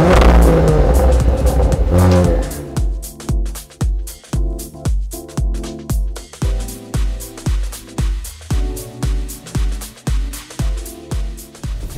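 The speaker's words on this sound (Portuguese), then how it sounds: "Vocês vão conhecer um pouco do RS5, é o carro que eu uso no dia a dia." Audi RS5 sports car pulling away and accelerating hard, engine roaring loud and close, then a steady run of rhythmic gear-change surges as it revs up repeatedly through the gears, no talking.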